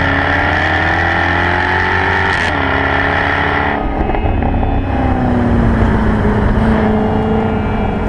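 A Jaguar F-Type V8 pulls hard along a mountain road, its engine note loud and close, climbing through the revs, then dropping sharply on a gear change or lift before roaring back and building again.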